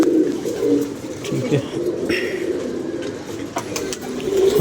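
Pigeons coo steadily in a low, continuous rumble of overlapping calls from a flock close by, with a voice speaking briefly over them.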